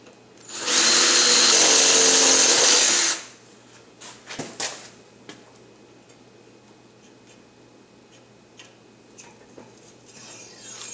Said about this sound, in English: We'll drill this out.